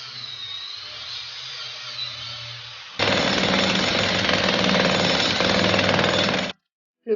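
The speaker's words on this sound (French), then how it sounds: "pour casser la ceinture de béton avec un marteau-piqueur vu le poids de l'engin" A jackhammer breaks up a concrete ring beam during a home renovation, starting as a steady mechanical rattle, then pounding much louder and closer for several seconds before stopping abruptly, with a brief burst after.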